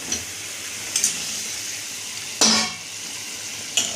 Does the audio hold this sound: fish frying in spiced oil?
yes